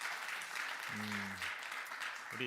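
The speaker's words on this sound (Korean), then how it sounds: "우리 한번 박수 다시 한번 크게 했으면 좋겠습니다" A church audience at a revival meeting applauds in a broad, even wash of clapping, while a voice briefly speaks over it partway through.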